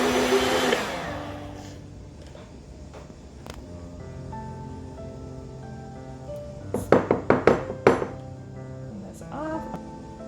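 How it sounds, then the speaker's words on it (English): An old immersion hand blender works through thick homemade mayonnaise, a straining motor whirr that fades, then a quick run of sharp knocks and clatters against the container, with a brief whir at the end. "my really old hand blender is having a hard time pushing through it"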